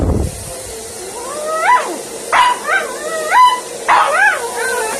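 A dog being washed before grooming lets out a series of high, rising yelps and whimpers after bumping itself, four or five sharp cries close by, with no speech over them.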